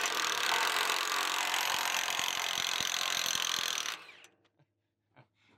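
Milwaukee M18 FUEL 1-inch cordless impact wrench hammering loose a 40-year-old 1 7/8 inch nut: a loud, continuous rattling hammer for about four seconds, then it stops abruptly, leaving a few faint clicks.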